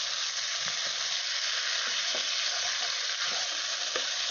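Potato pieces crackle and hiss in a pan of hot oil, with an unbroken sizzle and a few light scraping taps from stirring, heard up close.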